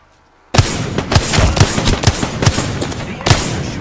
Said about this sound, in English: The enemy are shooting at me.